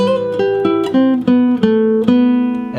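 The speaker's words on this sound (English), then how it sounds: "Here's what we have so far in this chord melody intro." Jazz guitar chord melody intro to a song, with a run of ringing chords and melody notes struck in a loose rhythm, close and clear with no talking.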